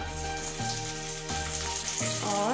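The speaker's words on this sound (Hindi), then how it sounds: "और अब मैं डालूंगी प्याज" Onion is tipped into a hot pan of oil with garlic and green chilli and sizzles loudly and steadily, with a few bursts of frying as the pieces settle.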